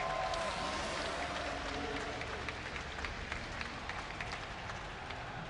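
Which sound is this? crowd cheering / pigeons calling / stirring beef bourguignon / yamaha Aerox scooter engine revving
crowd cheering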